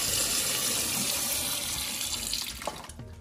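Warm water runs from a kitchen tap while beef ribs are washed, a loud steady hiss and splash that briefly shifts and spatters near the end as the ribs are handled under the stream.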